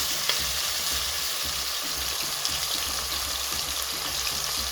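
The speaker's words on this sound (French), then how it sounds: "Pendant que je fais sauter ma viande" Pieces of beef sizzle and crackle steadily in a hot pan as they are stir-fried for a sautéed cabbage and beef dish, a dense, close frying hiss with small pops and soft stirring knocks.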